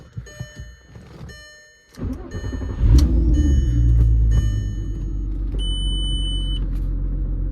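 A VW R32 car starts up and runs close by, its engine rumbling loud and steady with mechanical whine from the transmission riding over it.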